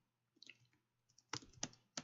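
Typing on a computer keyboard, a few soft scattered keystrokes followed by louder, sharper clicks in short bursts, close and alone against a quiet background hum.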